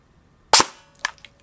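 A Poseidon Punisher 5 airsoft sniper rifle in sniper mode fires a single crisp, snapping shot, followed by a couple of faint mechanical clicks as the action settles.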